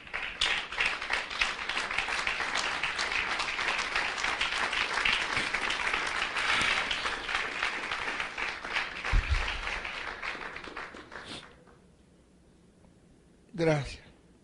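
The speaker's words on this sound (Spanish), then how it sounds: "Denle un aplauso al Señor," Congregation applause in a church service, dense clapping building and holding for about ten seconds before tapering off to near silence, followed by a brief low voice.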